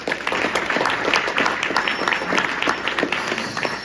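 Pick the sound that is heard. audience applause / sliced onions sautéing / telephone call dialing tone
audience applause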